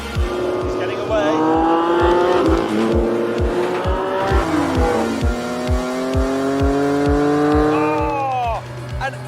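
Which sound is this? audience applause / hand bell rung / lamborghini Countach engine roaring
lamborghini Countach engine roaring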